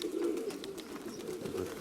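Young pigeons cooing in a loft, a steady low murmur of overlapping coos with no voices over it.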